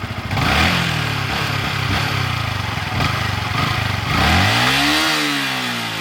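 A motorbike engine rumbles loudly and steadily throughout, with a rising rev surge near the end, heard close on a road trip through northern Thailand's Mae Hong Son Loop.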